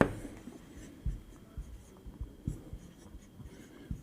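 Quick scratchy strokes and taps of a pen or chalk writing out a trigonometry answer during a Class 10 maths lesson, close and fairly faint with an uneven rhythm.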